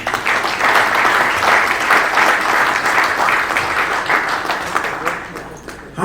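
A startup talk audience gives loud, steady applause that fills the whole stretch, dense and sustained before easing slightly at the end.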